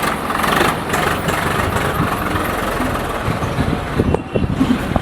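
A tractor engine runs close by with a steady low rumble and a rough idling throb. A few clunks come near the end, and no one speaks over it.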